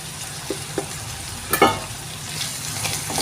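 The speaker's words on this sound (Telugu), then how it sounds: "ఇలా కలుపుతూ ఒకసారి ఫ్రై చేసుకోండి" Vegetables with meal maker, turmeric and ginger garlic paste fry in a pan for veg pulao, a steady sizzle broken by a few sharp spatula scrapes and knocks, with no voices.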